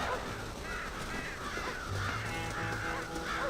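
A flock of crows swarming around corn in the video game Red Dead Redemption caws continuously in overlapping calls over a dense, steady background of game noise.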